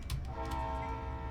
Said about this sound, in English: If we just blow the horn again